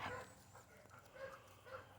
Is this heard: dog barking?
yes